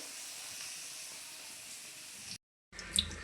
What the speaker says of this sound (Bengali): অনেকগুলো ভাজা হয়েও গেছে। এই যে এখন আবার পিঠা দেওয়া হচ্ছে।